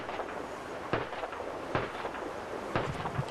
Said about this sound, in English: That sound, a diversionary device used to distract the suspect so SWAT team members can close in